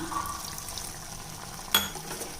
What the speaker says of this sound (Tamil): நம்ம கொஞ்சம் தண்ணி விட்டுக்கிறோம்